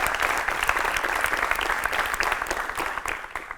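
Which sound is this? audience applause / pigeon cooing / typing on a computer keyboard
audience applause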